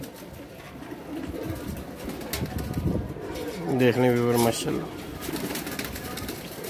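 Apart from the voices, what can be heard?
Dakoo breed pigeons cooing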